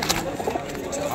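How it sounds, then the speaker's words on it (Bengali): Giribaz pigeons at the Kolkata pigeon market on Galiff Street coo softly and intermittently, nearby, amid steady market bustle and people talking. "গিরিবাজ পায়রা আছে।"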